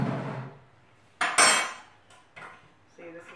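Metal tongs clatter against the racks of a Big Boss oil-less fryer, with two sharp bright clanks close together, then a lighter tap and a short rattle, close and clear with no talk.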